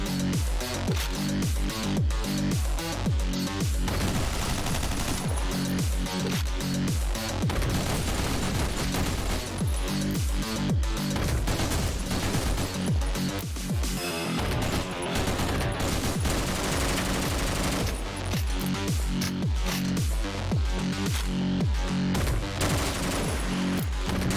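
Gunfire from an M1 Garand in the video game OTXO, dense repeated shots and booms fired in rapid bursts over loud continuous game music.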